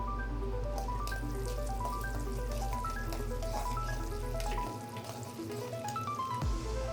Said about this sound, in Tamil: எண்ணெய் சூடானதும் அரை டீஸ்பூன் கடுகு சேர்க்கவும். கடுகு தட்டி தடித்ததும் ஒரு டீஸ்பூன் உளுத்தம்பருப்பு, ஒரு டீஸ்பூன் கடலைப்பருப்பு சேர்த்து பொன்னிறமாக வறுக்கவும்